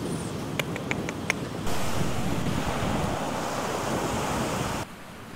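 Sea waves on the beach at Saulkrastai resort, a broad continuous roar of surf mixed with wind buffeting the microphone, preceded by a few brief faint clicks, with no talk.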